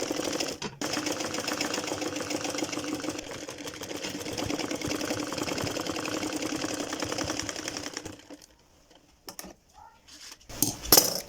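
A sewing machine stitches a salwar in a fast, steady mechanical rattle for about eight seconds, then stops, leaving a few faint clicks and handling knocks.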